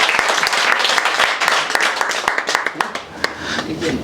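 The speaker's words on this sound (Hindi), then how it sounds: "ताली हो जाए" A group applauds a student who scored well in the matriculation exam at a coaching institute in Saharsa, giving a burst of brisk, close clapping that continues for several seconds.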